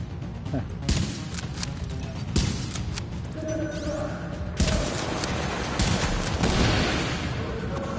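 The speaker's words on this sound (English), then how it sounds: "He shoots and he hits you out of cover." Gunfire in a video game, repeated loud sharp shots and bursts with crashing impacts, irregular and close, under a voice talking.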